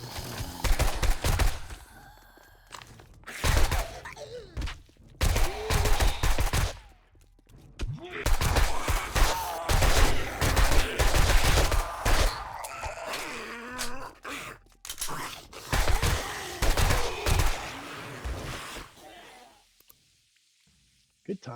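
Gunfire in 7 Days to Die aimed at a barrel: loud rapid bursts of shots in several clusters, separated by short pauses and grunting or groaning sounds, with the racket ending in near silence.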